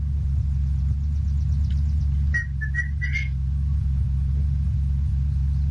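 A car engine in the video game Unturned drones as a low, steady rumble throughout, with a few brief whistling tones partway through.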